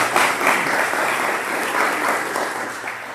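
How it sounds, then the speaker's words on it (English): Applause for sponsors at a healthcare association education event, a sustained, moderately loud patter of clapping from a seated audience filling the room throughout. "Give them a round of applause."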